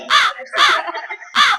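A stage performer's voice imitates a crow's caw, giving three loud, harsh caws close to the listener, with a short gap after the first and a longer pause before the third.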